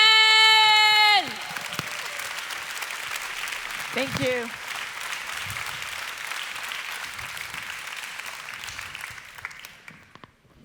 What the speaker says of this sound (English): please give an incredible, warm round of applause for Marian